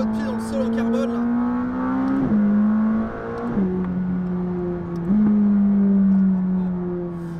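McLaren 600LT supercar engine pulling hard at full throttle, a loud sustained mechanical roar that climbs in pitch through three gear changes, each marked by a brief dip before the note rises again.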